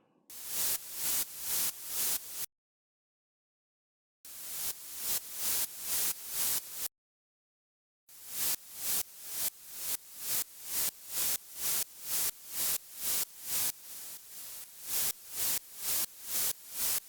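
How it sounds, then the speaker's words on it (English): Hissing white noise with a ducking effect pulsing in a steady rhythm, each burst swelling and dipping, broken by two short silent gaps and a brief quieter stretch. "This will give the white noise the same ducking effect."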